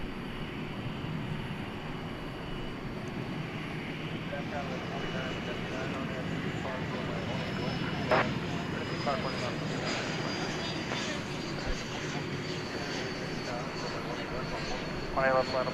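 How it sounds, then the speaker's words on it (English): A Delta Airbus A220 airliner arriving at DFW airport at night, inbound from LaGuardia, gives a steady broad jet roar that holds level throughout, with a faint distant whine over a constant rumble. "Got a Delta Airbus A220 coming in from LaGuardia Airport in New York."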